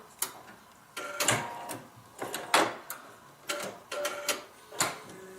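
A sewing machine stitches a paper-pieced log cabin quilt block in short repeated bursts, each a quick rattling run of stitches separated by brief pauses, close and fairly loud.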